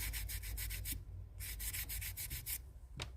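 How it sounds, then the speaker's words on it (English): Gritty sandpaper rubbing over a cast piece made from casting powder, in quick rhythmic back-and-forth strokes, close and steady, broken by a brief pause and then a final single stroke. "this is really, really gritty sandpaper"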